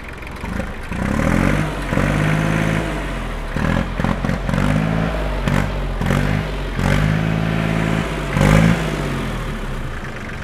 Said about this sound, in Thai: เครื่องยนต์เดี๋ยวเร่งเครื่องให้ดู